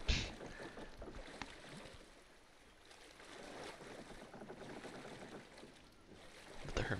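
A boat setting sail in the video game Kingdom Two Crowns, with a soft, steady wash of water and wind, quiet throughout and a brief swell near the end, with no talking.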